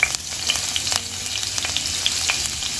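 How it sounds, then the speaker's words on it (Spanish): Crushed, chopped garlic frying in hot sesame oil for sweet-and-sour cauliflower, a loud, close, continuous sizzle with frequent bright crackles and pops throughout. "vamos a poner un poco de aceite de ajonjolí para comenzar a sofreír nuestro ajo"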